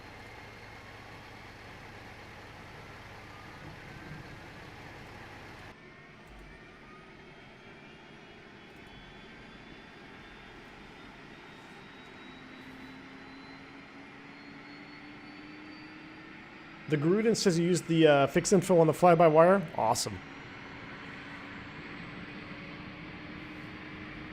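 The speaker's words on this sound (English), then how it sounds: "Not bad APU sounds." Airbus A340 auxiliary power unit running in a flight simulator, a steady low hum and faint whine throughout, with a short burst of speech partway through.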